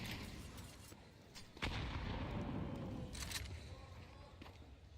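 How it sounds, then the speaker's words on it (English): Grenade blasts and gunfire in a Counter-Strike match, heard as a steady wash of game noise with a sharp explosive hit in the middle and scattered clicks and shots, under faint commentary. "Good piece of nade work, taking Donk down to 54"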